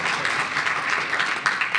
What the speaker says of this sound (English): a big round of applause for this man over here